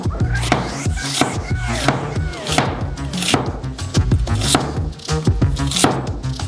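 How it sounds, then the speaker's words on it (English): A knife cuts half an onion into thin half rings on a board with fast, rhythmic chops. The crisp taps are close and loud and continue without pause. "The remaining half of the onion is cut into thin half rings."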